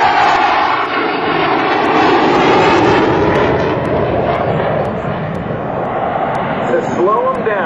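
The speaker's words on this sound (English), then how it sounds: "the airplanes come in real fast like this and pitch hard to the left" An F/A-18C Hornet jet at the 2006 NAS Oceana airshow roars loudly overhead, a sustained, powerful engine rumble with a shifting pitch as it passes close by.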